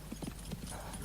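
Horse hooves clatter quickly in a radio drama sound effect, a rapid galloping clip-clop that stays fairly faint and muffled against a steady background.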